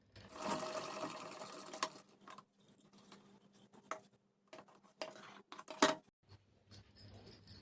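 Domestic sewing machine stitching a seam on a halter neck maxi dress, a loud continuous whirring run in the first two seconds followed by shorter bursts and pauses, with faint fabric handling and small clicks.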